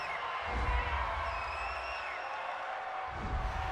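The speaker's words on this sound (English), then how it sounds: "Well, this crowd does not like that call." Stadium crowd at an NFL game between the Arizona Cardinals and Seattle Seahawks, booing and jeering a penalty call as a loud, sustained roar with whistles rising over it.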